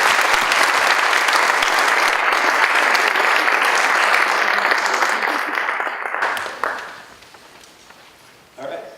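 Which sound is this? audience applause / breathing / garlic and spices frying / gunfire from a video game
audience applause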